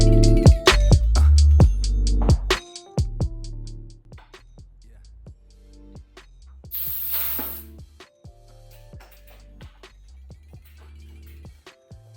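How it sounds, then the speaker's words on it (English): A roughly one-second burst of hissing as air is let out of a bicycle suspension, set among scattered mechanical clicks and taps from workshop repair work. "I was able to let some of the air out of the suspension"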